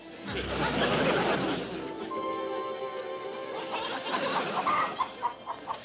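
Chicken clucking from an F Troop television episode, a busy run of close clucks and squawks followed by a few shorter, sharper cackles, with no talking.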